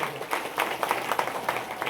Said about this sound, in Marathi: जोरदार टाळ्या होऊन राहिल्या बऱ्या वाघांसाठी.